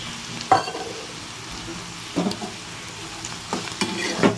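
Prawns tossed with bottle gourd in a pan, giving a low sizzle under several distinct scraping stir strokes spaced a second or so apart.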